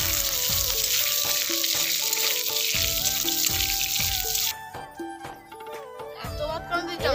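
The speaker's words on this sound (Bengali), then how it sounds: "মাছগুলো ভেজে নিচ্ছি গোটা গোটা।" Whole dried fish fry in hot oil with a steady loud sizzle, then the hiss drops away and scattered clinks and scraping follow.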